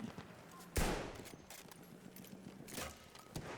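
Video game gunfire in Battlefield 1 cracks out in a few sharp, separate shots, one loud and several fainter, over a low battlefield background.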